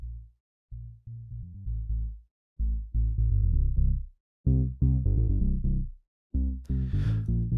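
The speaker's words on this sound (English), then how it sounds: "So what you're hearing here is all the content below 196 Hertz from this original bass sound." Synth bass line filtered to keep only its lowest content, leaving deep, muffled notes played in short rhythmic phrases with gaps between them, heard alone at a moderate level.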